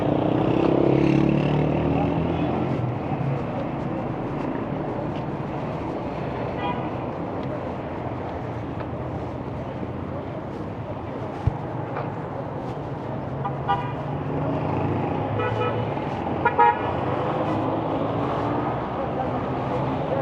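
Busy traffic at the Malik Asghar intersection in Kabul, a constant roar of engines with car horns tooting repeatedly, some short bursts close by, while people talk beneath it.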